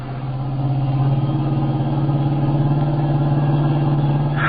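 A car engine drones steadily and loudly throughout, holding a strong low hum as it speeds along in a radio-drama chase scene, with no voices over it.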